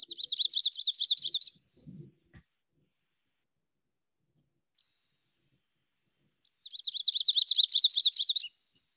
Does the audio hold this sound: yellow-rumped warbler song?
yes